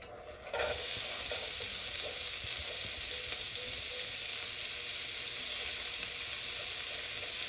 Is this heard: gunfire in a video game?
no